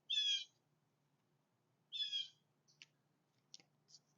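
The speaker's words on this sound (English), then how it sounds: "That's a hawk." A hawk gives two sharp, high screeching calls about two seconds apart, fairly faint and distant, followed by a few small clicks and chirps in an otherwise quiet outdoor setting.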